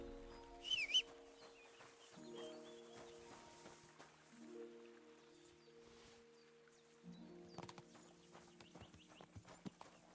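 Horse hooves clip-clop at a walking pace in the medieval video game Kingdom Come: Deliverance II, a faint, steady rhythm with soft game music and distant birdsong behind it.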